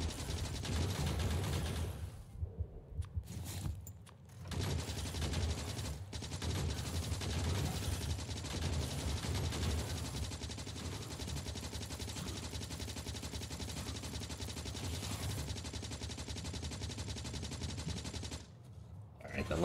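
Rapid automatic gunfire rattles almost continuously through a Factorio game, a dense mechanical stream of shots mowing down enemies, pausing briefly twice before resuming, with occasional speech faint beneath.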